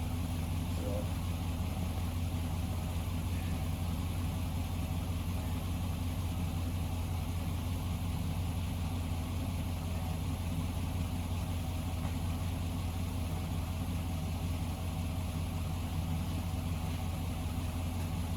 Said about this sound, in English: I had a truck running to try and defrost my windows too